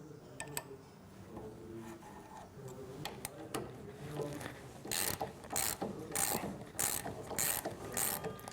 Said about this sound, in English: Loosen all adjustment screws first.